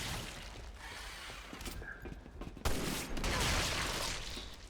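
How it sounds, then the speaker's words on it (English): A rifle quick shot in Resident Evil 6, Mercenaries mode with Helena, fires as one sharp blast amid dense gunfire and game effects. "The quick shot with the rifle, with this rifle, is good for bouncing those guys around."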